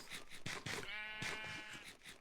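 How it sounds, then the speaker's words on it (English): A Minecraft sheep bleats in a quavering, wavering cry of about a second, faint and set among other soft game sounds. "there is a sheep, and I do need wool"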